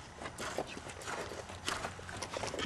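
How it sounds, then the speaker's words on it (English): Horse hooves clip-clop nearby in an uneven walking rhythm, a series of soft close knocks and scuffs over faint background noise with a brief sound of movement around them. "Get this horse away from me."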